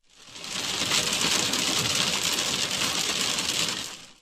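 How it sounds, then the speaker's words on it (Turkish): Hail pelts the Ardahan–Göle highway in a sudden storm, a dense, even hiss of countless icy impacts that swells in and holds steady at close range, with no voices. "Dolu yağışı aniden bastırdı."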